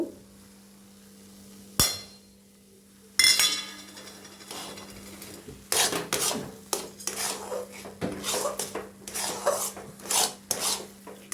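A spoon scraping and rasping through chana dal cooked down with sugar and jaggery in a pan, with a steady hum underneath and irregular bursts of scraping and clinks that grow more frequent, close up and without talk.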